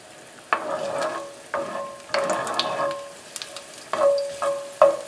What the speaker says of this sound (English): everything's getting to a nice simmer there now